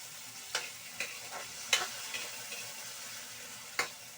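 Sardines and tomato sautéing in a pan, a soft continuous sizzle broken by a few sharp scraping strokes of a spatula, spaced irregularly, with no talk.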